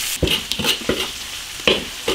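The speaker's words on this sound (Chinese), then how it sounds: "火锅底料来一点，炒个麻辣味。" Hot pot seasoning stir-fried in an iron wok with oil, chili paste, ginger, Sichuan peppercorns and spices, the spatula scraping in a few quick strokes over a soft sizzle.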